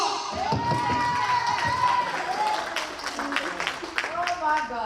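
Youth ministry congregation clapping and cheering with shouts, a lively crowd noise that fills the room and carries a few voices calling out over it.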